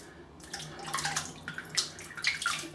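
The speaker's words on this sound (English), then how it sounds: "I'm just dipping it in the water." A shaving brush is dipped and swished in water during a wet shave, soft splashing and dripping in irregular bursts, close and fairly quiet.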